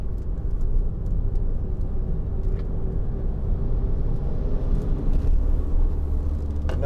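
Steady low diesel rumble from a 2012 Skoda Yeti 2.0 TDI 4x4 on the road, heard from inside the cabin as it drops into third, a continuous close engine and road drone with no voices.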